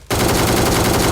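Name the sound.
shotgun fire in video game BGMI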